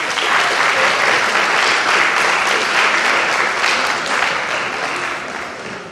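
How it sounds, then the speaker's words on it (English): A room at a city board of education meeting breaks into steady, full applause, many hands clapping together at close range and slowly tapering toward the end. "Let's give her a round of applause."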